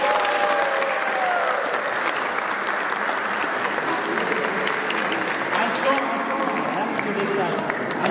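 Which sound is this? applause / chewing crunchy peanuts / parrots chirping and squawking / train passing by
applause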